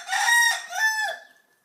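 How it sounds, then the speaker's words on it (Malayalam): A rooster gives a single loud, close crow, a drawn-out cock-a-doodle-doo lasting over a second that rises and then trails away into quiet. "പൂവൻ കോഴിയുടെ ശബ്ദം കേട്ടാൽ എവിടെ നിന്നെന്നില്ലാതെ അവൻ പറന്നെത്തും"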